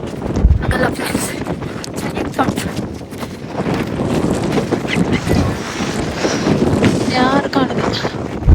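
Wind gusting across a fog-covered hilltop viewpoint at Devaramane, a steady broadband rush with buffeting against the microphone throughout, while people talk over it.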